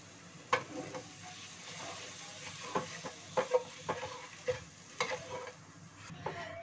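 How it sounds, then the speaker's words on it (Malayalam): Milk is stirred into a white sauce for pasta in a pan, with soft, faint scraping strokes at an irregular rhythm over a low, steady sizzle. "വളരെ കുറച്ചായിട്ട് ചേർത്ത് കൊടുത്ത് നന്നായിട്ട് മിക്സ് ചെയ്തെടുക്കണം"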